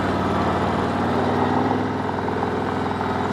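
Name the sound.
vehicle engine idling after jump-start from truck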